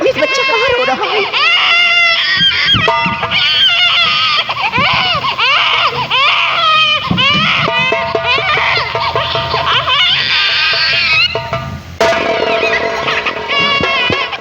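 Loud, sustained infant crying in a forest scene from a Hindi film, wailing in repeated rising and falling bursts over a faint background, with a brief break near the end.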